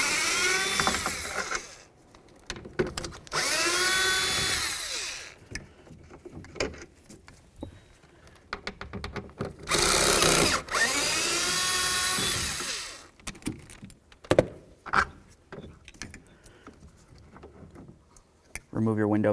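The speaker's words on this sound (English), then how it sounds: "The next thing we're going to do is remove our 3 mounting bolts for our window motor to the regulator." A power tool, likely a drill or impact driver, removes the three window motor mounting bolts from the regulator on a 2007-2017 Ford Expedition, running in several loud whirring bursts separated by pauses and clicking handling noises.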